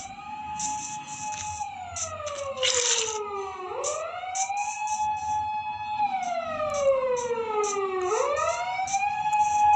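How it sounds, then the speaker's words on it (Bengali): A loud wailing ambulance siren sweeps down and back up in long repeating cycles, with a fainter rapid chirping pattern on top; no voices. "কানে লাগতেছে এটা অ্যাম্বুলেন্সের, মনে হচ্ছে কোনো রোগী টোগী আছে"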